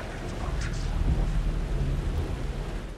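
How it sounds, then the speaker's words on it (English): Steady rain with a low rumble of thunder rolls through a stormy scene in the video game Alan Wake 2, a dense wash of falling water with the deep rumble swelling midway, no voices over it. "The rain never stopped falling."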